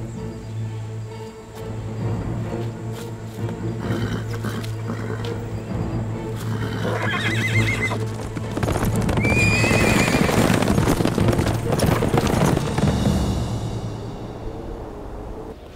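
Horses galloping in a dramatic battle-era scene, steady pounding hoofbeats with neighing, building louder and denser toward the middle amid a rumbling soundtrack.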